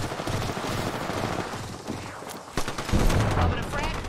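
Rapid automatic gunfire in a team deathmatch video game: dense, continuous bursts of shots that grow heavier near the end, loud and close, with a voice talking under the shooting.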